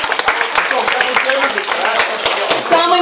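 A studio audience at a debate show applauds a guest, the mayor of Rostov, with dense, loud clapping that runs throughout while someone talks over it.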